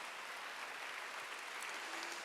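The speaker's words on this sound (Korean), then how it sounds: "박수 한번 하세요" A congregation at a Wednesday service at Jesus Center Church gives faint, distant applause that holds as an even, continuous wash of clapping with no voices over it.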